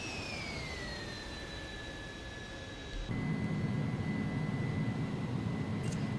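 Airliner jet engine during a flyby in the X-Plane 11 flight simulator, a steady whining turbine tone with broadband roar that shifts abruptly to a deeper, louder rush midway.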